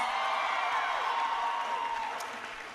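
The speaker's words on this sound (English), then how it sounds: "Give her a big round of applause." Audience at a President Obama visit to Benedict College in Columbia, SC applauding Tiana's introduction, a crowd's steady clapping with scattered whoops, fairly distant, gradually easing off.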